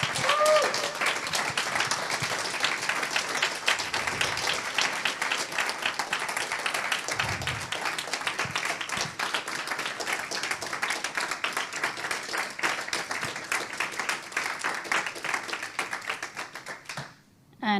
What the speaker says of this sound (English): can we have a massive round of applause?